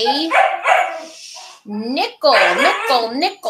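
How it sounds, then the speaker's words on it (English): A puppy barking and yipping in a home, short high-pitched barks in quick bursts that mix with a person talking nearby. "You can probably hear her barking"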